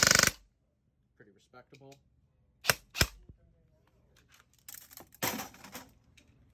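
An airsoft gun fitted with an Eshooter Kestrel V2 ETU shoots in quick bursts, with sharp cracks and a rattling volley near the end, up close among small handling noises, and someone speaks briefly.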